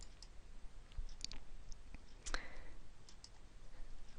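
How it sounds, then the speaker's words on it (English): A computer mouse double-clicked at a desk, faint crisp clicks in quick pairs with a few scattered single clicks, close and quiet with no talking. "So I'm going to double click on that."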